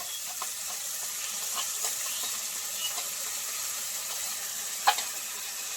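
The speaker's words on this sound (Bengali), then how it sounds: "একটুখানি 1 মিনিট মতো একটু ভেজে নেব।" Garlic, peas and coriander with yogurt sauce fry in a pan with a steady, soft sizzle, broken by a few faint stirring scrapes and one sharper clink near the end. No one talks.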